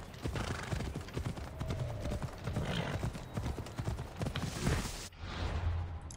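Horse hooves clip-clop in Assassin's Creed Odyssey, a steady trotting rhythm close up, with a brief whinny amid faint game ambience and a short break near the end.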